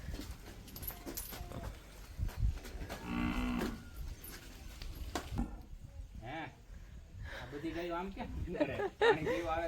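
Cows lowing on a Gujarati dairy farm around milking time, with a few drawn-out moos rising over constant background voices and farmyard noise; people talk throughout.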